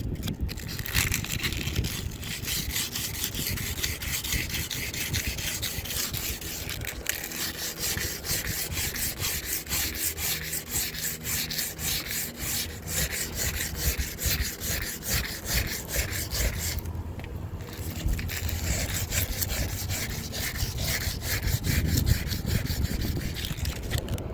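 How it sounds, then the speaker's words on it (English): Sandpaper rubs back and forth across the edge of a plexiglass skylight beside its aluminum frame, roughening it for new silicone; a steady, close rasping scrub continues without pause throughout, with no talking. "And the reason for the sandpaper is make it a little bit rough so the new silicone can stick on it."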